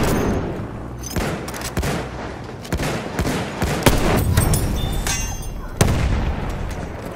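Enemy machine gun in Battlefield 1 rattling in bursts, with sharp gunshots and booms scattered among heavy battlefield noise and shouting voices.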